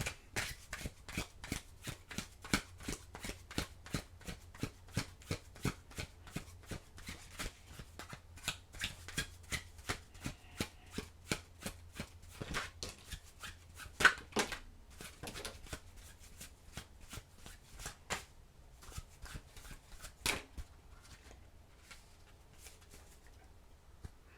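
Tarot cards are shuffled by hand in a long, rapid run of crisp riffling slaps, close and fairly quiet, the rhythm steady before thinning out near the end.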